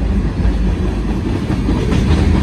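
A freight train hauling steel coils rumbles loudly past a railroad crossing, a close, heavy roar of wheels and cars with steady clatter throughout.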